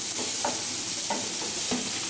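Curry leaves and tomatoes sautéing in a pan for a mixed vegetable sabji, a loud close sizzle with rhythmic spatula scrapes every half second or so.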